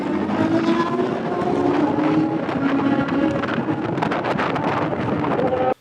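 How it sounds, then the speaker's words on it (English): Heavy, continuous wind buffeting the microphone at an autocross event, a loud roaring rumble that drowns out everything else, including the cars, for the whole stretch. "It's just wind noise."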